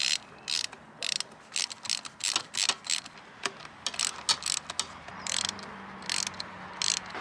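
A hand ratchet works the bolts on an outboard engine, clicking in rapid repeated bursts with short pauses between strokes, close and clear, no voices.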